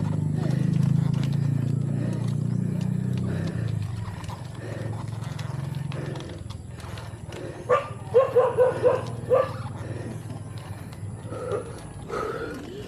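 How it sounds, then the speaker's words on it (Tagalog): Several dogs bark in a short run of sharp, repeated barks midway through a ride, heard over a steady low rumble of wind and road noise. "Ang dami aso."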